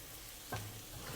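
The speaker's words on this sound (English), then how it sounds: "Now when frying garlic, is good if you can just use medium-low heat or low heat" Garlic sizzles steadily in a hot pan, with a brief scrape of stirring partway through; close and fairly quiet, no voices.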